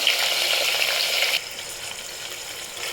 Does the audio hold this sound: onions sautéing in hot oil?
yes